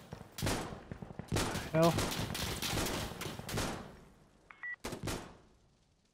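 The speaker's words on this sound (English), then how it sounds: "I don't know where these bullets are coming from." Gunfire in the video game Insurgency: Sandstorm rattles in several rapid bursts, loud and close, then fades to scattered shots while a player mutters briefly.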